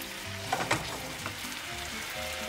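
Chicken splashed with vermouth sizzles and fries in a pan, a steady crackling hiss with a few brief louder pops, heard close and alone.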